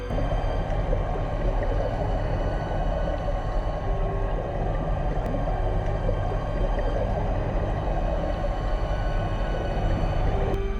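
A pair of sperm whales deep underwater on a dive, heard as a steady, dense underwater rumble and hiss with faint tonal vocal-like streaks running continuously throughout, no voices.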